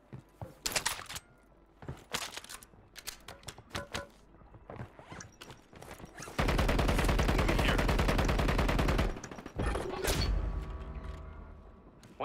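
Call of Duty firefight with scattered single gunshots and short bursts, then a long sustained roar of automatic fire lasting several seconds before more intermittent shots, loud and close.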